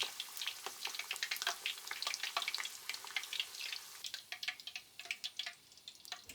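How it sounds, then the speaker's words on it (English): Chicken karaage deep frying in oil at around 140 degrees, a busy crackling sizzle with rapid irregular pops and bubbling, close and steady throughout. "Deep fry them for 3 minutes and 30 seconds totally around 140 degrees."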